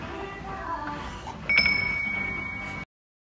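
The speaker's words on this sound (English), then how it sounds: "Ring the bell." A small bell is struck once midway, giving a bright ding with a clear ringing tone that sustains for over a second above quiet background noise before cutting off.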